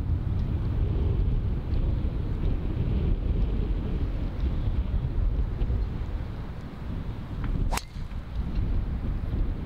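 Wind gusting across an open golf course at Bowood Park, a steady loud roar buffeting the microphone throughout, with one brief sharp crack near the end.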